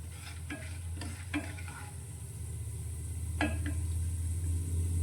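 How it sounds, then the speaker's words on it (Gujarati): A raw potato snack mixture is stirred and sautéed in a kadai, with a steady sizzle of frying under a low hum and a few sharp scraping strokes of the spoon against the pan. "આ રીતે હલાવતા જઈ અને તેને સાંતળીશું"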